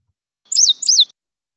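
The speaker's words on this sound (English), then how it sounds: "And then here is our indigo bunting." A played recording of an indigo bunting song: two quick, bright, sweeping chirped phrases, clear and loud against total silence.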